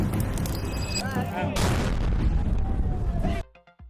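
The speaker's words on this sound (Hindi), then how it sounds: "कुछ ही सेकंड बाद दोस्तों एक बहुत बड़ा धमाका होता है।" A car bomb detonates near the Red Fort in Delhi, a sudden broad, heavy blast over busy street noise, followed by a loud rumbling roar that cuts off abruptly near the end.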